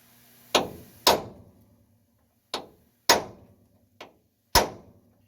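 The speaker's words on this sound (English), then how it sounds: "It's just hard to hold the punch and hit it at the same time." A hammer strikes a punch on a rear leaf spring part of a 2001 Ford F250 Super Duty, six sharp metallic blows spaced unevenly over a few seconds, close and loud with quiet gaps between.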